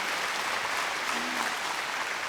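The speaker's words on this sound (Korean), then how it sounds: "우리 박수 한번 주세요" A church audience at a gospel praise event claps warmly and steadily for a couple of seconds, a dense, even wash of applause with no voices over it.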